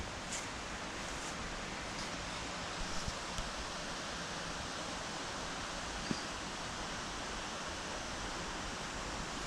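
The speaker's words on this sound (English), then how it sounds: "It sounds like there's a waterfall." A steady, even rush of water fills the air like a waterfall, a continuous hiss with occasional faint clicks.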